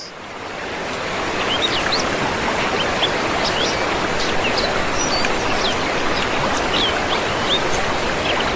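Forest ambience beside a hidden waterfall among trees and bamboo, where a dense, steady rush of water carries scattered high bird chirps and a constant insect-like hiss throughout, with no voices.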